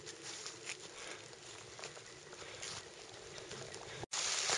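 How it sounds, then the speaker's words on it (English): Steady, heavy rainfall patters continuously nearby on a hiking trail in Uwharrie National Forest, a dense hiss with no talking. "And now it's raining hard"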